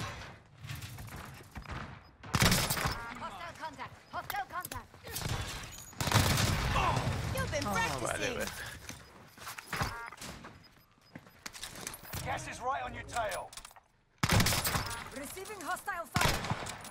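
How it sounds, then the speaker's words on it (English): Bursts of heavy gunfire in Warzone, some loud and close, come in separate bursts with short gaps between them, with people talking over much of it. "Taking heavy fire here"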